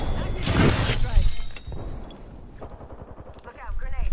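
Video game firefight, a dense burst of close gunfire and impacts at the start, then quieter scattered shots and mechanical clatter under talking voices and in-game callouts.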